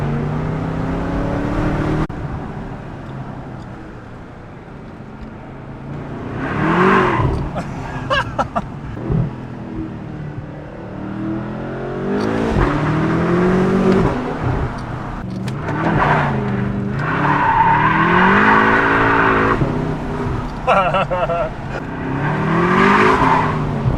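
A BMW F10 M5 V8 with Valvetronic exhaust revs hard and slides in a drift, its high-pitched engine note rising and falling in repeated surges with tire squeal, loud and close, while a person talks in between.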